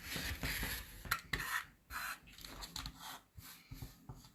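Quiet rasping cuts and rubbing as a rotary cutter trims fabric pieces for a scrappy pineapple quilt block against a ruler, a series of short faint strokes close by.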